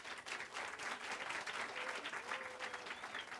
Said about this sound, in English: please give your faculty a round of applause